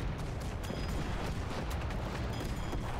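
Cannons fire in a blimp battle video game as a continuous barrage of booming shots and rumbling impacts, loud and dense with sharp repeated blasts over a heavy low roar.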